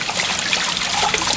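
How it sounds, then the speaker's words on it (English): Water from a rain chain fountain trickles and splashes into a patio pond with a waterfall, a close, continuous bright spatter, loud and steady with no voices. "pond with a waterfall made by Universal"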